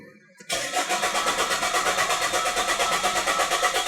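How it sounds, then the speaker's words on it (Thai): A Chevrolet Captiva C140 diesel with a faulty DPF cranks and fires after a brief quiet moment, then settles into a loud, steady, close idle. "อย่างนี้พอลบออกลองสตาร์ทดู"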